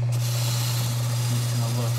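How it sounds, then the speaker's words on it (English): Freshly cut key deburred in a key-cutting machine: a steady motor hum with a rough, continuous rasping rub, close and loud. "I still have to deburr it here in the machine"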